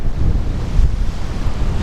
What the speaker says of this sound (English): Pretty old rugged old place is Southern Ocean, bashing up against the granite.